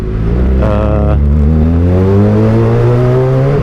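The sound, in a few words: Kawasaki ZX25R motorcycle engine revving through aftermarket exhaust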